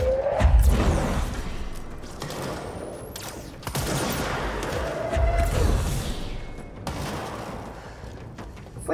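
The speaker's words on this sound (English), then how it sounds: "I got a railgun." A video game railgun fires amid chaotic combat, with sharp whooshing blasts, rising zips and heavy low thumps, several bursts over a noisy, shifting background.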